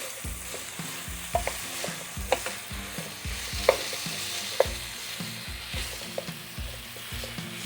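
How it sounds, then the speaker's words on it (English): Chicken and leftover rice fry together in a pan, a steady sizzle broken by a repeating rhythm of utensil scrapes and taps as the mix is stirred, close and clear without any talking. "I'm sticking it in the pan and everything's going to cook all together"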